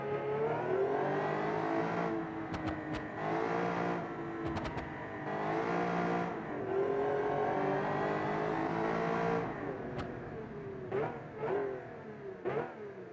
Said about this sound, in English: the supercharger whine, the V12